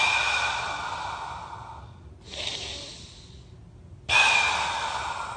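Slow, deep breaths from a person during an osteopathic myofascial release on the upper body, with a long exhale, a quieter inhale, then a sharper breath, close and alone without talk.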